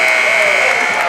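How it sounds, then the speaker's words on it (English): A loud basketball game buzzer sounds at the end of a varsity boys' high school game between Portland High and Deering, a steady electronic blare sustained through the whole moment. "The buzzer will expire."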